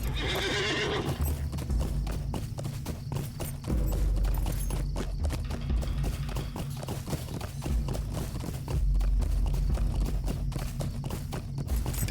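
Horse in the Lord of the Rings Online video game, a whinny at the start followed by a steady run of clip-clop hoofbeats as it is ridden, loud and continuous, with a heavier low rumble rising and falling.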